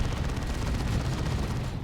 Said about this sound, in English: Terminators though with their assault cannon scaring off the Nob squad.